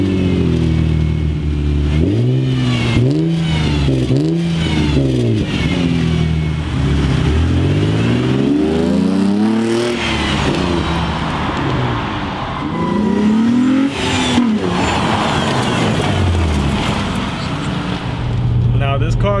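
A 2003 Infiniti G35 Coupe with a 3.5 liter VQ35DE V6 revs repeatedly, its pitch rising and falling in several sweeping pulls, loud and close, with someone talking over parts of it.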